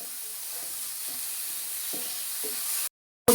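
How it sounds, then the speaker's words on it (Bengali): Chicken with black pepper powder sizzles as it is stirred in a pan over very high flame, making a steady bright hiss with soft periodic scrapes of the stirring spoon, close up, before cutting off abruptly. "এবার দেবো চিকেনটা, ব্ল্যাক পেপার পাউডার, নাড়িয়ে চাড়িয়ে নেব হালকা করে"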